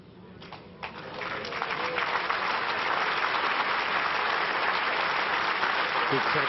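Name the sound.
crowd applauding at indoor bowls final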